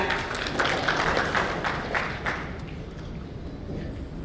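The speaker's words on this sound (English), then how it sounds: "Let's clap." A crowd claps together at a launch event for a global education consultancy, a dense patter of hands that is strongest at first and gradually thins out, with some murmuring underneath.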